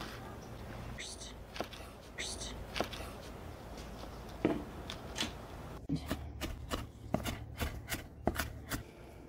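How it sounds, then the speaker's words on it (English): Jalapenos being chopped finely with a knife on a cutting board while preparing a smoked chili dish, heard as a series of close, crisp taps and cuts in an irregular rhythm, with quiet speech in places. "Now we're chopping up the jalapenos."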